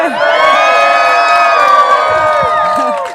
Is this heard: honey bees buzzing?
no